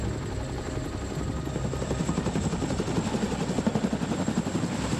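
A Boeing CH-47 Chinook military helicopter throbs steadily, its rotor chop a continuous rhythmic pulse that grows slightly stronger toward the end, heard alone without any voices.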